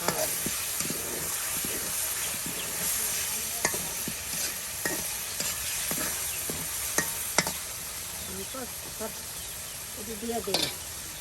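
Spice paste for a dried rita fish curry sizzles steadily in the pan, with recurring sharp scrapes and stirring knocks of the spatula over a constant frying hiss, close and moderately loud, with no talk.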